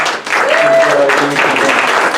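Audience members at an evening history talk about Detroit in World War II applaud for a couple of seconds, steady clapping from a room-sized crowd with a voice speaking over it.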